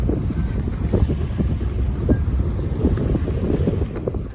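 Wind rushes past a sailboat under sail with the engine off while water splashes and slaps against the hull, a steady blustery whoosh with no engine noise.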